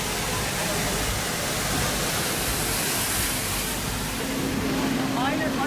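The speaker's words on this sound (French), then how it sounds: "c'est juste à côté d'une espèce de mini cascade, donc il y a de l'eau qui rentre." Water rushes steadily into a bus parked beside a small waterfall on a blocked mountain road in Nepal, a loud continuous broadband roar filling the whole stretch.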